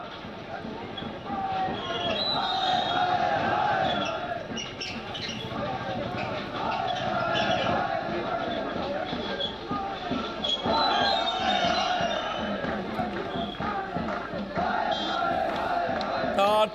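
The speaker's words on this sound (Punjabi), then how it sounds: "ਨਾਰੇਬਾਜ਼ੀ ਦੇ ਦੌਰਾਨ ਕੀ ਕੁਝ ਜਿਹੜੀਆਂ ਆਵਾਜ਼ਾਂ ਰਿਕਾਰਡ ਹੋਈਆਂ" Students at a protest at Panjab University chant slogans against the police, a continuous crowd roar of many voices in rhythmic bursts, loud and sustained throughout.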